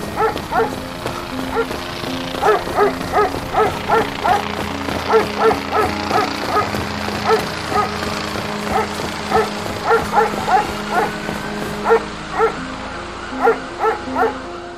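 A pack of dogs barks in rapid, repeated bursts throughout, loud and close, with yips mixed in over a steady background hum and no talking.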